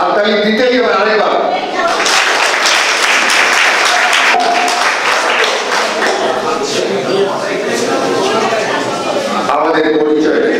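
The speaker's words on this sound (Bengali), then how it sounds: "তারপরে দিদির পাশে হাততালি দিতেই হবে আরেকবার।" Conference delegates at a savings agents' association district meeting give loud, dense applause lasting roughly eight seconds. Amplified talking frames the applause at the start and end.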